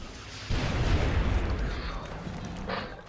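A heavy, booming gunshot in XCOM: Enemy Within hits at about half a second, its rumble lingering loudly before a smaller crack near the end.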